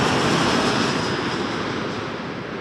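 A plane at Toronto Pearson Airport gives a steady, loud broadband jet roar with a faint high whine, slowly easing off over a few seconds.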